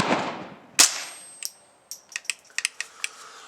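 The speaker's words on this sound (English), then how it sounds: "So next up we'll shoot this CCI Quiet-22." A CCI Quiet-22 .22 LR round goes off from an AR15 rifle with one sharp, fairly quiet crack, followed by a scatter of small metallic clicks and clinks.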